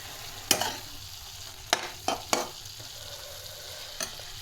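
Leafy greens frying in a pan are stirred, giving a soft background sizzle punctuated by about five quick scraping strokes, close and alone with no speech.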